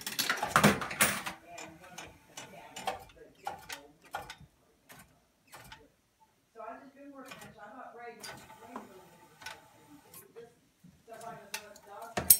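A toy claw machine's mechanism runs in bursts of clicking, ticking and whirring gear noise, close by, with quieter pauses between movements.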